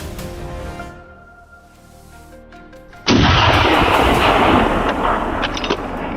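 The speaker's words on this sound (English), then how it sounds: "Another precise shot brought the prey down on the spot." After a few quiet seconds, a sudden loud gunshot blast fired at wild boars on a dusty road cracks out and rolls into a long rumbling echo outdoors.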